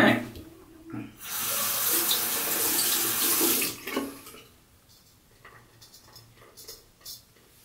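Tap water runs steadily for about three seconds to rinse a straight razor during a shave, then stops, leaving quiet small clinks and drips.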